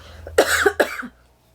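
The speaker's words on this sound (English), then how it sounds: "I don't know why why these coughs came out of nowhere." Two close, harsh coughs in a row, fairly near, followed by a short throaty exhale, with quiet room noise underneath.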